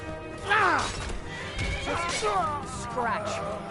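A horse in Skyrim whinnies in three loud, shrill neighs, each one wavering and falling, close up amid scuffling game sounds. Voices talk over the neighs.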